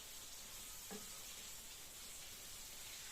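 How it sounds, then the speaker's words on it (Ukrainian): Steady sizzling of eggplant frying in oil, a constant crackling hiss with a brief soft clink of a utensil near the start. "А тепер можна смажити вже їх десь до такого золотистого кольору"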